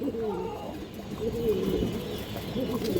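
A pair of Afsan Bagha pigeons coo close by in low, rolling phrases that swell and fade across the stretch, over faint background noise.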